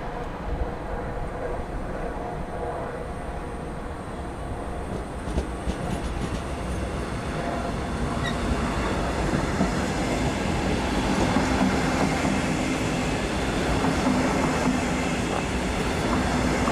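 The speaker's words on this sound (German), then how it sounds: "Im Hauptbahnhof Dortmund hat der Regionalexpress nach Aachen einen planmäßigen Halt." Regional express train of double-deck coaches at Dortmund main station, heard as a steady rumbling roll with faint rail clatter and squeal, continuous and fairly close, gradually growing a little louder with no speech.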